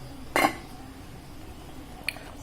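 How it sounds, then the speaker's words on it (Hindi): A lid set on a cooking pot of vegetable biryani gives a sharp metallic clank, then a lighter clink a moment later, against a quiet kitchen background. "इसको मैं ढक के 10 मिनट तक पकाऊंगा।"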